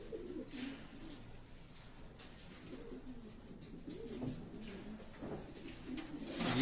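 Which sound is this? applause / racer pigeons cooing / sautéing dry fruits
racer pigeons cooing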